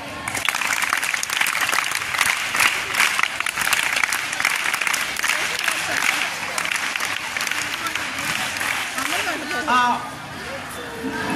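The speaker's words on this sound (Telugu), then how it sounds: "ఒకసారి మళ్ళీ ఇంకొకసారి వాళ్ళకి చీర్ క్లాప్స్" Schoolchildren at a Children's Day celebration clap and cheer together in a dense, lively burst that carries on steadily. A few voices rise above the crowd near the end.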